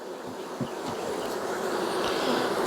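Honey bees at an open hive give a steady, dense buzzing drone throughout, close and even, with no talking.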